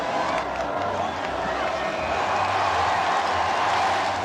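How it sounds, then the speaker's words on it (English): A large street crowd of spectators near St. Paul's Cathedral roaring at a royal wedding kiss, a steady distant wash of cheering and clapping while a narrator talks over it. "A kiss, which receives a roar of approval from the crowd."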